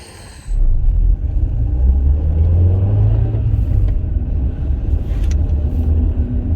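A car engine rumbles loudly and steadily from inside the moving vehicle after a quiet start, with a low droning hum and no talking.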